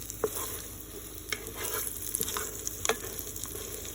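French toast bites fry in a pan with a faint, steady sizzle, broken by a few soft scrapes and taps as the pieces are turned, quiet and close with no talking.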